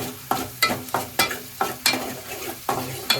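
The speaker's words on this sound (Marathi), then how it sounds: "मसाला भाजून द्यायचं मस्त सुगंध सुटलाय ना आलं मस्त शिजन घ्यायचे" Masala with ginger and garlic being roasted in a pan for Malvani-style pomfret fry, a steady sizzle punctuated by about eight regular spatula scrapes and taps, close and distinct.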